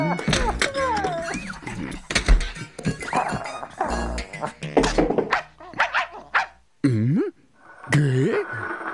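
A cartoon dog barks and yips loudly in short, uneven bursts, mixed with exaggerated animated vocal sounds close to the listener.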